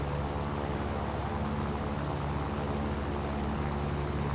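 A World War II propeller aircraft engine drones in the War Thunder video game, flying over Korea, a steady dense roar holding constant throughout without voices.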